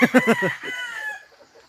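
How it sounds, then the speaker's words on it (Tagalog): A rooster crows nearby, a loud drawn-out call that trails off, followed by faint clucking. "Ang daming manok ni Ka-Hunter dito"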